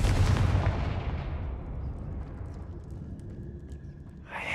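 A Confringo fire spell blast in Hogwarts Legacy: a loud, booming burst at the start that rolls into a long, fading rumble and crackle, with a faint tonal hum and a fresh swell near the end.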